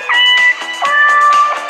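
Cat meowing in the online game Momio, two drawn-out, high, synthetic-sounding meows, loud and close, with no talk over them.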